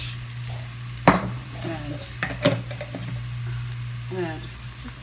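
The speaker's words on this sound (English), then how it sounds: "This has been frying for about a couple of minutes." Tin fish frying and being stirred in a pan for Sri Lankan style fish cutlets, a steady low sizzle with sharp scraping and clinking strokes of a utensil against the pan, under brief speech.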